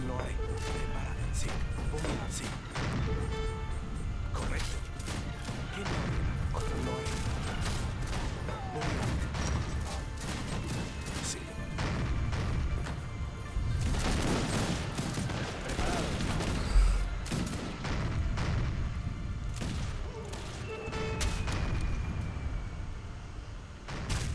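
Gunfire in the strategy game Wars of Liberty: many sharp, crackling volleys and scattered shots pop repeatedly over a busy battle din, with someone talking throughout.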